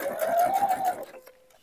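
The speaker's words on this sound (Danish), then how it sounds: "Så fik jeg syet stroppen på begge sider" A sewing machine stitches a strap onto a handmade bag in a short, close, rapid mechanical whirr of about a second, then stops and leaves a faint tail.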